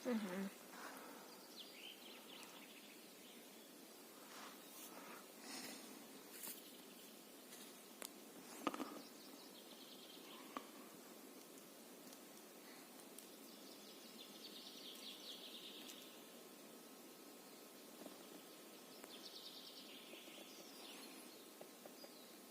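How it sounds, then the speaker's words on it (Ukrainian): Birds in a spring forest, with faint scattered chirps and short calls over a quiet, hushed background and occasional soft rustles, all at a distance. "Пташки співають. Як класно в лісі."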